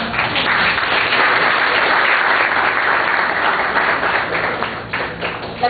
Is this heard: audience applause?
yes